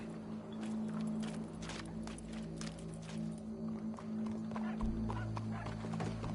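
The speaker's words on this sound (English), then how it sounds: "Go brush that horse" Horse hooves clip-clop in a PS4 video game, a steady run of hollow knocks over a constant low game hum, with no talk.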